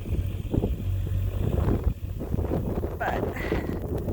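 Strong north wind rushing and buffeting the microphone outdoors on a sheep farm during snowfall, with a person talking over the steady roar.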